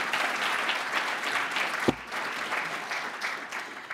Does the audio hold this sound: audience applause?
yes